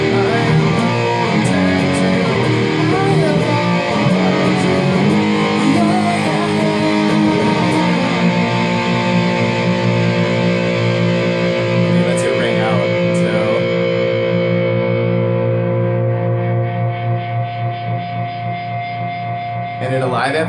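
Distorted electric guitar plays the end of the second chorus of a song, a thick, sustained, effects-heavy wash of strummed chords that rings continuously and loud throughout before thinning slightly near the end.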